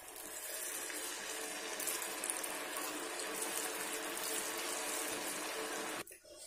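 Cauliflower pieces fry in hot oil for a restaurant-style cauliflower chilli, giving a steady, dense sizzle that stays loud and unbroken before dropping away abruptly near the end.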